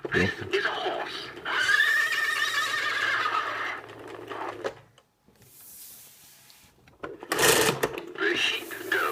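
Recorded horse neigh played from a 1989 Mattel See and Say farm toy: a long whinny followed by a pause and a short mechanical whir, close and fairly loud.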